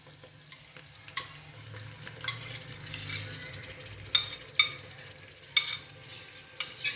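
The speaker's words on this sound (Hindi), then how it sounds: "अच्छा जी, प्याज जो है वो मैंने सोते कर लिए हैं। बस अब इसमें मैं डाल रही हूँ दही।" Yogurt is added to fried onions in a pan and stirred in, giving a low sizzle with scraping spoon strokes and a few sharp clinks against the metal pan. There is no talking.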